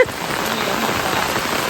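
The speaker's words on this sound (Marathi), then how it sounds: "पाऊस पडायला लागला." Rain begins pattering steadily on surfaces outdoors in the Konkan countryside, a dense, even hiss of drops that holds at a constant level throughout with no voices.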